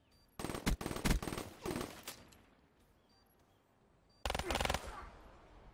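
Bursts of M8 rifle fire in a competitive online shooter match: a loud rapid volley for about two seconds, a pause, then a second close burst, with no speech over it.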